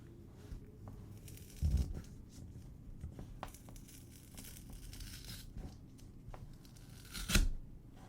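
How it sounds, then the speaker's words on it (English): Glued leather sample torn apart in a rip test, soft crinkling strain building to a sharp ripping burst near the end, close and fairly quiet. "So we've got our sample piece here, and let's give it the rip test."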